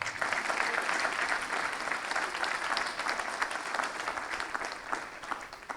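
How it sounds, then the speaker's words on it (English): An audience at a book launch applauds a speaker's mother, a full wash of many hands clapping steadily and fairly close, slowly thinning toward the end. "Can you clap for her?"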